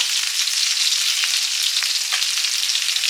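Panch phoron spices frying in oil, a dense, loud, steady hiss of sizzling with faint crackles, close up and with no voices.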